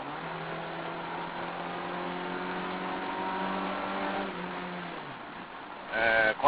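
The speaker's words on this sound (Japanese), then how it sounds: "こんな音を立ててエンジンが回って" A 1986 Nissan EXA with a 1.5-litre twin-cam engine revs in a steady, rising drone with strong harmonics for about five seconds, then drops away as a brief louder burst follows near the end.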